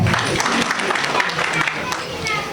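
A crowd at an evening installation ceremony for a new community president in Port-Gentil applauds, a loud dense wash of clapping with a few voices mixed in.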